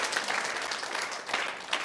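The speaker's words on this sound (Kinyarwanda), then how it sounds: "Komera Imana amashyi menshi" Church congregation clapping, a short burst of fairly close, rapid applause with uneven swells, at moderate loudness.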